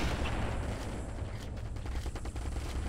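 Bolt action sniper rifle fire in Halo CE Digsite mod, heard as dense, steady booming gunfire that runs continuously throughout at moderate loudness.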